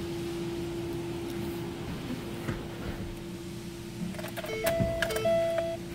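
A 2010 Ford Focus SE power window or mirror motor gives a short electric whine near the end, over a faint, steady cabin hum.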